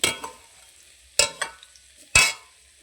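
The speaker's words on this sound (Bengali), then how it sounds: "আলুর দমটার দিকে দিয়ে একটু লাল লাল করে ভেজে নেব" Potatoes for aloo dum fry in a pan as they are stirred, giving three sharp scraping strokes with brief sizzling bursts that die away between the stirs.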